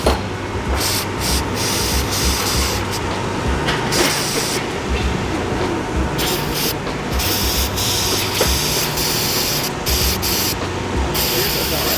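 Brake cleaner sprays hard and steadily to flush valve grinding compound out of an engine part, a loud, close, continuous hiss with brief pauses and changes in pressure.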